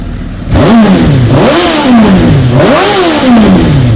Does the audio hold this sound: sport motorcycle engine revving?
yes